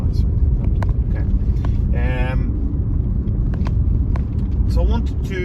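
A manual Porsche Panamera S V8 exhaust rumbles steadily while driving in winter, a loud, low continuous drone with wind buffeting the microphone and brief higher whines.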